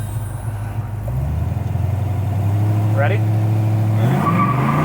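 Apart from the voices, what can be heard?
1972 Chevrolet Nova engine revving and tires spinning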